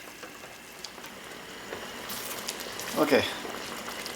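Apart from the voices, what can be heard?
black and red currant jam boiling on stove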